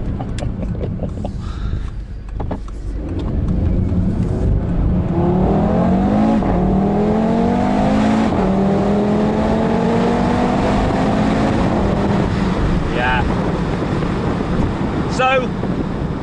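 A 2017 Audi TT RS Roadster accelerates hard, its engine note climbing loudly through several rising pulls with gear shifts between them, heard close over heavy wind buffeting.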